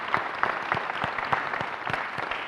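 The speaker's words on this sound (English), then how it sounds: "you can do some gentle clapping" An audience at a keynote session claps steadily, a dense continuous patter of many hands throughout, fairly loud and with no talk over it.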